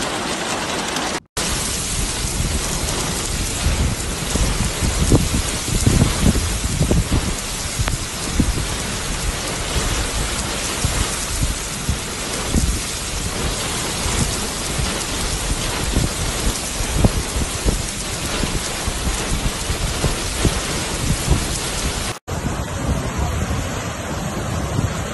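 Heavy rain pours down in a thunderstorm over Taif, Saudi Arabia, a loud, dense and continuous roar with rumbling undertones lasting the whole stretch, briefly cut twice.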